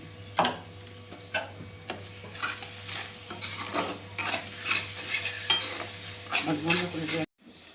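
Tomato paste sizzles in a hot pan while a utensil scrapes and stirs it in repeated strokes, with a steady low hum underneath. The sound is close and fairly loud and cuts off abruptly at the end.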